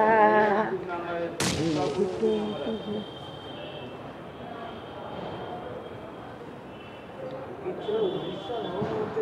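A single sharp, loud gunshot bursts out in the battle game PUBG, set against steady in-game background noise, with players talking over it before and after.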